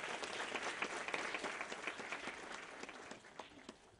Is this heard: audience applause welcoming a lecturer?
yes